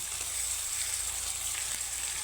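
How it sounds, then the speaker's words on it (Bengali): Ginger garlic paste hitting oil with onions already fried red, giving a steady, close, unbroken sizzle throughout. "এই পর্যায়ে দিয়ে দিব আদা রসুন বাটা"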